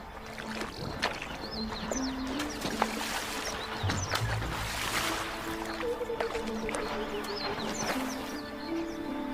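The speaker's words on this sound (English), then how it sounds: "And it always involves a good splashing." African elephant splashing in water, a faint continuous wash of sloshing and trickling with soft thuds and birdsong in the distance.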